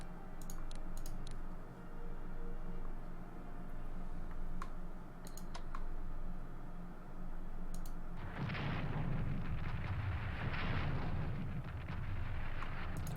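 Artillery shells fire in the World War I strategy game Strategic Command, with a few sharp clicks early on, then a loud burst of booming blasts and rumble in the latter part.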